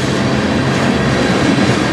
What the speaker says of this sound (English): this looks like a really short train